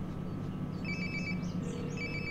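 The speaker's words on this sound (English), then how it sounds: "Oh, we can hear our phone." Phone rings in the video game Life Is Strange Before the Storm, two warbling electronic ringtone bursts sounding over a steady low ambient game background, no speech.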